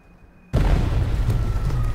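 A bomb detonates in Shadow of the Tomb Raider: a sudden loud blast after a brief quiet moment, followed by a sustained rumbling roar of debris and fire.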